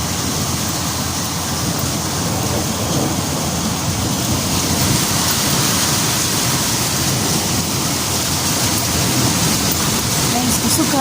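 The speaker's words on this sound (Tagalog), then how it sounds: "Guys, kusog kayong ulan." Heavy rain pours steadily in Tabuk, Saudi Arabia, a dense, continuous wash of close downpour with thunder rumbling low beneath it throughout; no clear talk stands out.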